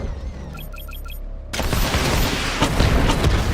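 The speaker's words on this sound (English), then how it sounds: "Missile barrage level 2 ready." Missile barrage from the Batmobile in Batman Arkham Knight: after a brief electronic beeping sequence, a sudden loud wall of booming explosions bursts in and keeps rumbling and crackling densely to the end.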